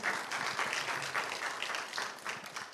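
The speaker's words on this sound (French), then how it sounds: "Monsieur Jules Kala Eyango, sous vos ovations, les enfants, applaudissez" Children applauding at a ciné club screening to welcome a film's presenter, a steady patter of clapping that stays moderately loud without a break.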